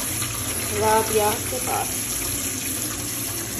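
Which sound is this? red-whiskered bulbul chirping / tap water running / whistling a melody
tap water running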